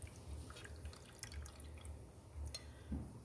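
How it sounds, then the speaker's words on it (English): Liquid from canned salmon drains into a bowl with soft, irregular drips and trickles, faint and close, against a low background hum. "I'm going to drain some more of this juice off"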